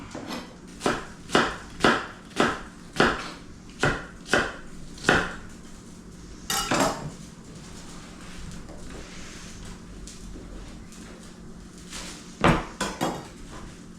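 Knife dicing onions on a board in a steady run of about a dozen sharp, close chops, then a few scattered knocks and a last quick burst of cuts.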